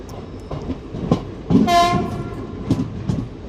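The 07664 Jalna-Parbhani Festival Special pulls into Parbhani Junction with a loud, close horn blast over rumbling, clattering wheels and rolling carriages.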